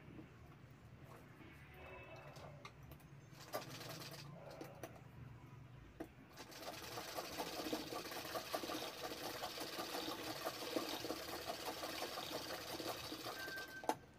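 After a quieter start with talking, a sewing machine double-stitches a lehenga neckline in a steady, fast, continuous whir that runs close and even through the second half.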